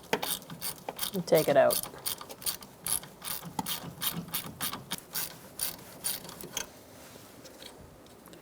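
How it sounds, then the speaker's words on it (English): A 12mm socket ratchet loosens a brake hose bolt on a 2002-2006 Toyota Camry rear brake, giving a long run of close, rapid clicks in steady bursts, with a brief spoken remark near the start. "Using a 12mm socket, we're going to loosen up this bolt"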